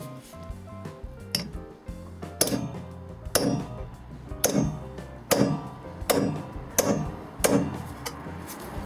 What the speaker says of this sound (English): So I'm using a centre punch and a hammer